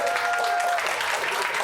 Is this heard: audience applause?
yes